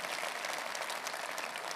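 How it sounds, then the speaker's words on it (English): Steady, dense applause from a large audience at a Conservative party conference hall, filling the whole moment without a break and with no voice over it. "I never thought I'd get such applause for Jeremy Corbyn at a Tory party conference."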